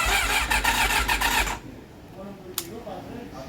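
A Honda CB400 Super Four motorcycle engine cranking without catching, a close, loud, rhythmic starter churn lasting about a second and a half, then quiet with a single click.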